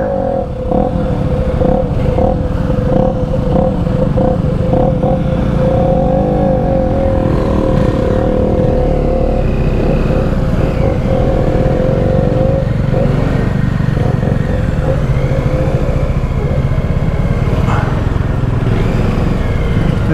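A motorcycle engine runs loud and close through the whole stretch during a group ride, its steady roar rising and falling with revs.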